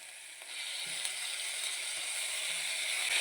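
Onions fry in a pan with tomatoes added for egg bhurji, a steady soft sizzle with faint scraping clicks, quiet and close.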